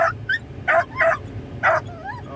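A dog gives a few short, sharp yelping barks in quick bursts close by, with whiny yips between them over a low background hum.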